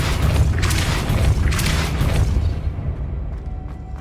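In Hogwarts Legacy, the Depulso spell is cast with a heavy booming blast, followed by a second rumbling burst, both loud and close before fading into a low tail.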